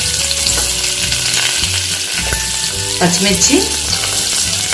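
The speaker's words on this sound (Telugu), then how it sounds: "కరివేపాకు వేసుకొని ఫ్రై చేసుకోవాలి" Onion, green chili and curry leaves sizzle steadily in a hot oiled pan, with a few stirring scrapes and a brief spoken word over the continuous frying.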